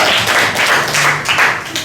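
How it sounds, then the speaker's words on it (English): A classroom of students claps for a group of classmates at a school, a dense, steady patter of many small hands filling the room with brief rises and a voice faintly underneath. "Big clap for group number"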